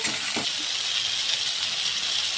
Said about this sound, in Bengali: আমি এবার এই সবজিগুলো একে একে সব তেলে দিয়ে ভেজে নেব হালকা ভেজে নেব সবজিটা আমি তেলে দিয়ে এই যে নাড়িয়ে ভেজে নিচ্ছি